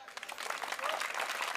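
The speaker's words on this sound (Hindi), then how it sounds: "ताली बजाओ।" An audience at a Hindi comic poetry gathering breaks into a soft, diffuse patter of applause that builds slightly, heard faint and at a distance.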